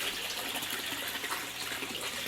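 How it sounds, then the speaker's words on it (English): Water runs steadily into a bucket, a continuous splashing gush at moderate level, heard alone without talking. "Right now I'm still gonna add more water"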